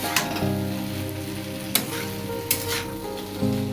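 Fish curry frying and sizzling in a pan while being stirred, a steady hiss with a few sharp scraping clinks from the spoon.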